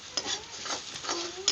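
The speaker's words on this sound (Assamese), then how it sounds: "বিলাহীখিনি ধুনীয়াকৈ লৰাই ভাজি লৈছোঁ" Tomatoes are stirred and fried in a pan over a wood fire, with soft scraping stirs and a light, steady sizzle close by and a couple of sharper clinks.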